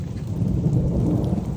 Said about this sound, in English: this has got to be the weirdest thunderstorm I've ever experienced